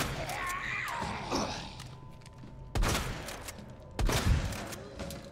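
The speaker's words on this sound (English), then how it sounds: "Had to actually waste shotgun rounds." A shotgun in Resident Evil 2 fires two sharp, booming blasts a little over a second apart over a faint game ambience.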